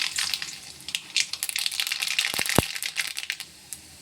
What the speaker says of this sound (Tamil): கொஞ்சம் கடுகு போட்டுக்குவோம்